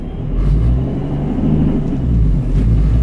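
A supercharged Nissan 350Z drives along in first gear with a steady, loud engine drone, and a faint metallic transmission rattle sits inside the continuous road and drivetrain noise.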